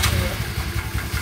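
Motorcycle engine humming steadily during a ride, low pulsing drone with wind and road noise, fairly close, with people talking over it.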